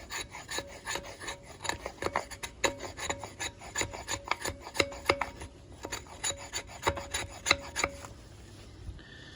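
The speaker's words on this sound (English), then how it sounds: "Let's see if we can get some like shavings off of here." Repeated rasping scrapes of a knife's sharp 90-degree spine drawn along wood, pulling off fine shavings and fluff, in steady strokes close up, stopping near the end.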